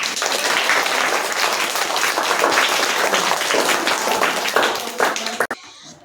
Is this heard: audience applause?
yes